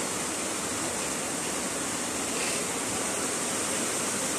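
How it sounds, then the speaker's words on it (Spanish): Dense, steady rush of heavy rain pouring down in the Gambia at dawn, a continuous broadband hiss with no breaks or voices. "La lluvia que cae desde la madrugada ha sido abundante"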